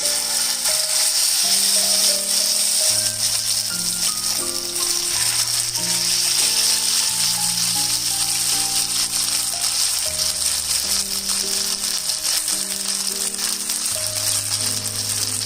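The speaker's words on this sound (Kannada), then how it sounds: "ಈಗ ನಾವು ಮಸಾಲ ಹಚ್ಕೊಂಡು ಮ್ಯಾರಿನೇಟ್ ಮಾಡ್ಕೊಂಡಿರುವಂತಹ ಬಾಂಗಡೆಯನ್ನ ಫ್ರೈ ಮಾಡ್ಕೊತಾ ಇದ್ದೀನಿ" Mackerel (bangada) coated in green masala fries in hot oil on medium flame, giving a steady, dense crackling sizzle throughout while a sustained melodic music track plays over it.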